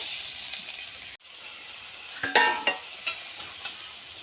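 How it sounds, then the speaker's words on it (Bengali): Fish frying in a pan: faint steady sizzle cut off briefly, then a few louder spattering pops and crackles return, with no voices. "আজকে আমি করছি ঝুড়ি ঝুড়ি মাছ ভাজা"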